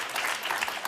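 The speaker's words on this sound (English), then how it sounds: "Kevin, you got applause." A studio audience on a TV talk show claps, a brief, moderately quiet burst of applause lasting about a second.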